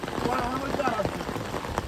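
Heavy monsoon rain beats steadily on a tin sheet roof, a dense close patter with occasional sharper drips, while a voice talks faintly underneath.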